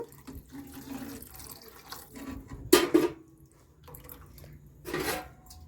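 A glass of water is poured into egg gravy in a pan: two short, close splashy pours separated by quiet, with no speech.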